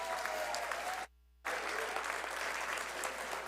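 Audience applause at an awards evening, a dense steady clatter of many hands filling the room, with a brief cut to silence near one second before it resumes just as strong.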